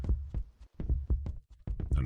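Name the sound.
heartbeat sound effect in video game during chase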